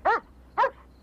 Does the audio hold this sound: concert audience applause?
no